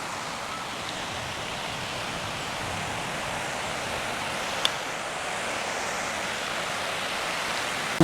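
Steady broadband rush of a stream flowing at a secret outdoor hideout, with the water running lower than usual; a continuous even wash with no talk, and one brief click near the end.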